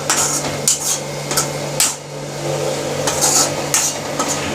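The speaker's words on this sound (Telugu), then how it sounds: "కలపెట్టాలి, బాగా కలపెట్టుకుంటా ఉండాలి మాడకుండా" Carrot halwa is stirred in a pan on the stove, a series of close, rhythmic scraping strokes over a low, continuous cooking sizzle, with no talking.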